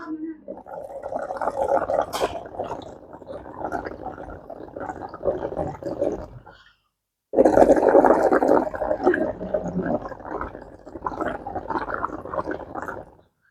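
Air is blown through a straw into a glass of water, making two long stretches of gurgling bubbles split by a brief silence, with voices faintly behind.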